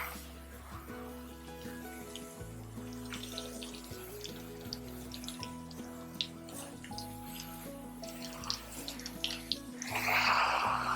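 Water runs steadily from a hose or tap to rinse shampoo from a horse's coat during a bath. A soft, continuous splash sits under a faint music bed and swells louder near the end.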